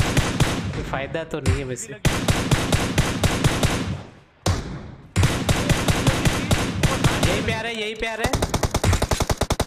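Rapid automatic gunfire in PUBG Mobile, bursts of sharp shots fired at close range, pausing briefly before resuming in fast rattling volleys, with players talking over it.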